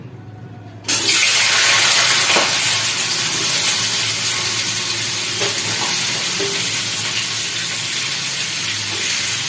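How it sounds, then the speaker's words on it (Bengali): After a second of quiet, frying potatoes and onion stalks burst into a loud, steady sizzle that keeps going at close range, with a few faint clicks and no talking. "এখন ভাজছি এখানে পেঁয়াজ কলি আলু ভাজা"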